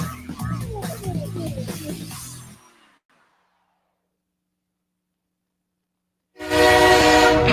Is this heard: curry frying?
no